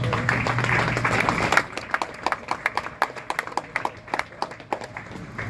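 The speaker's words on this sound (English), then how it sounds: "How about a round of applause?" Audience applause at a memorial dedication ceremony, a dense wash of clapping that thins after about a second and a half into scattered individual claps tapering off.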